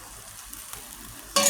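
Pork fries quietly in its own rendered fat with a faint low sizzle and a couple of soft taps, then a sudden louder burst of hissing at the very end.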